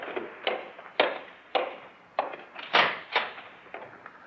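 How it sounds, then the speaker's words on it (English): Wooden door knocks sound in a slow, uneven series of about eight close, hollow raps, each clear and distinct with quiet gaps between, heard alone in a radio drama scene. "there was a knock on the door"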